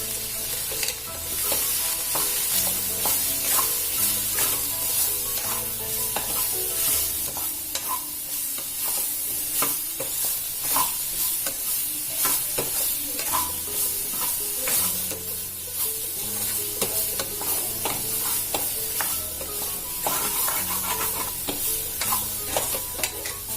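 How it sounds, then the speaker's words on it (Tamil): Baby corn stir-fried with turmeric, garam masala and chili powder in a pan, a steady close sizzle with continuous scraping and stirring strokes throughout, no voices. "இப்போ இதை மிக்ஸ் பண்ணி இதையும் ஒரு 2 நிமிஷம் நல்லா வறுத்து எடுத்துக்கலாம்."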